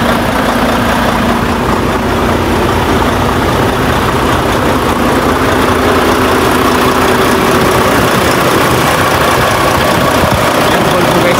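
A Volvo truck engine idles close by, a loud continuous low rumble with steady vibration throughout, while someone talks over it.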